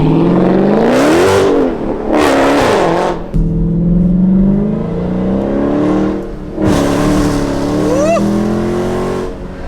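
An SRT vehicle with 700-plus horsepower accelerates hard in full track mode, its engine note rising loud and close in repeated revving surges, with pauses between bursts and a voice speaking over it.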